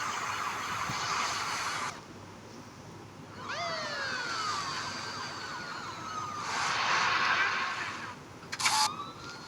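Police car siren inside a video game, wailing sweeps rising and falling over engine and street noise, fairly loud and close, with bursts of game effects and no clear speech.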